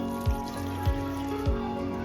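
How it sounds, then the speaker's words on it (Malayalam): A glass of water tipped into a cooking pot for a vegetable curry, with three short splashing pours at a steady rhythm over a faint background hum, no speech. "ഒരു ഗ്ലാസ് വെള്ളം എടുത്തിട്ടുണ്ട്, നമുക്ക് ഒഴിക്കാം"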